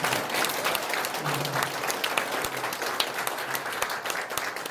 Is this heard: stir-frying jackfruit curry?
no